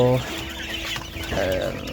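A young chick clucks briefly, with soft rustling and faint background noise around it.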